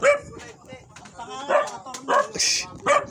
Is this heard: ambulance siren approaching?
no